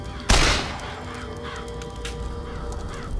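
Crows caw in BioShock Infinite, several harsh calls scattered over a noisy game backdrop after a sudden loud burst at the start.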